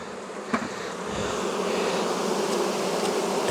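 Honey bees swarm and buzz around an open hive box, a dense, steady drone that swells after a brief knock and holds loud and close throughout, with no talking.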